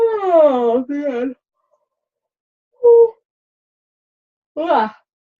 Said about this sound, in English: sorry for the yawn